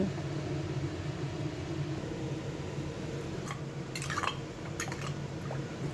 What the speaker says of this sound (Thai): ทีนี้ก็เติมน้ำให้ท่วมหมูเลย